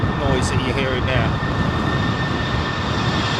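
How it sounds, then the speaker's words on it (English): Airbus A321neo engine starting at London Heathrow Airport, a steady whining drone with a faint tonal hum, heard at a distance amid ambient noise and brief chirps early on. "is that 321neo just starting its engines, or starting its number 2 engine"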